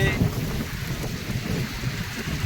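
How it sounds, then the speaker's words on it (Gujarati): Heavy downpour of the season's first rain in the village of Chachasana, a dense and steady roar of rainfall on surfaces with a low rumbling undertone, continuous and close throughout. "જો ફાઇનલી ધોધમાર વરસાદ,"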